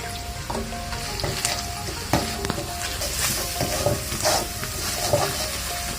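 Onion and green chillies sizzling in hot oil in a wok, a loud continuous frying crackle with a spatula stirring and scraping against the pan throughout.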